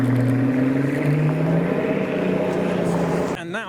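A car pulls away from a car show with a loud, rising engine note that sweeps up as it departs, close by, before a voice briefly cuts in at the end.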